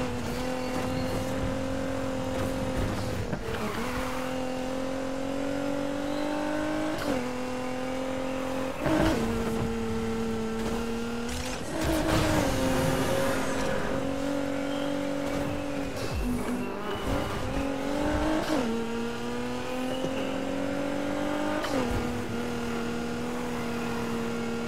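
A Nissan GT-R engine in the video game Need For Speed drones and revs steadily, climbing through the gears with repeated shifts and brief surges, loud and continuous with no talk.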